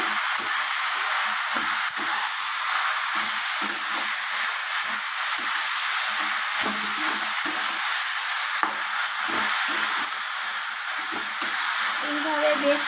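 Taro pieces are stirred through hot oil with tempering spices, giving a constant loud sizzle with repeated scraping and tapping of the spoon against the pan.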